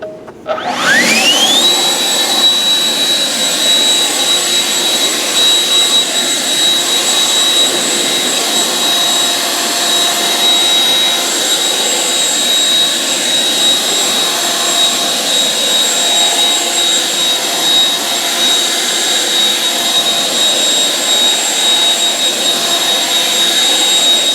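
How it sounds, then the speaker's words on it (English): An air blower drying off a car tire after cleaning with citrus degreaser gives a loud, steady rushing roar with a high whine that rises quickly at start-up and holds constant throughout, with no voices. "Let me dry that tire off"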